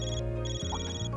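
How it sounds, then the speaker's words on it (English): An electronic phone ringtone from the video game Trails through Daybreak, a short bright tonal chime with steady pitched notes over low game background, ending in a brief burst. "We got a phone call from..."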